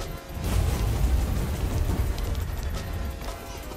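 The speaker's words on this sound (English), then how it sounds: "What kind of ugly storm is this?" A rainstorm with thunder rumbles in the GPO video game, a dense loud downpour with a deep low rumble throughout, steady and close with no voices.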